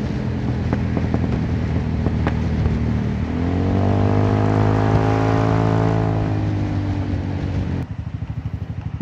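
A Honda Forza 350 scooter fitted with a loud aftermarket exhaust revs up hard, its close, throaty drone rising and holding high for several seconds before dropping back to a burbling idle.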